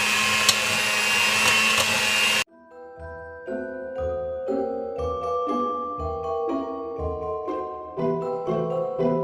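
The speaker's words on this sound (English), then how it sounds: "now that we're done with the hand mixer" An electric hand mixer runs loudly for about two seconds as it mixes low-carb brownie batter, with a steady motor whine, then cuts off abruptly. Background music with a plucked melody plays for the rest of the clip.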